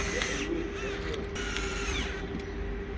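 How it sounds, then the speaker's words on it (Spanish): A power drill drives screws into the wall brackets for a split air conditioner. The motor whines steadily and fairly loudly and changes pitch as each screw bites, with no voices. "Entonces vamos a poner unos cuantos tornillos."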